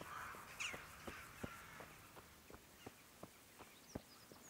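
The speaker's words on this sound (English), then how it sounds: "I saw birds." Crows caw repeatedly in the Kingdom Come: Deliverance video game, a faint series of evenly spaced calls over a steady outdoor ambience with soft background sounds.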